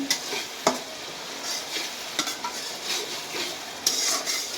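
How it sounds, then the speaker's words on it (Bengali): Hilsa fish masala being sautéed in a pan, with a continuous sizzle broken by several sharp spoon-on-pan scrapes and clinks as it is stirred. "দেখুন আমি কীভাবে কষিয়ে নিচ্ছি।"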